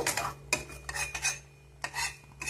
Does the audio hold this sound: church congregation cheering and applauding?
no